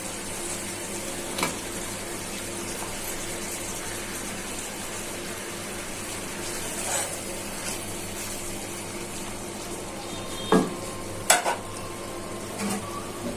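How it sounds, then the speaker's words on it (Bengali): Eggplant pieces are stirred into a sizzling, well-fried spice masala for a pangas fish curry: a steady close frying hiss with soft scraping stirs and a few sharper clinks of the spoon against the pan, with no talking. "এখন বোনেরা, মশলাটা ভালো করে কষানো হয়ে গেছে, এখন বেগুনগুলো দিয়ে দিচ্ছি।"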